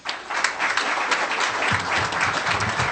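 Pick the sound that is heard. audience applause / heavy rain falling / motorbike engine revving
audience applause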